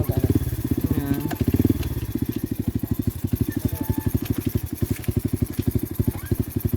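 A TMX dirt bike engine runs with a steady, rapid low thumping pulse heard up close, with a short burst of revving early on and some rattling over a midday outdoor ride.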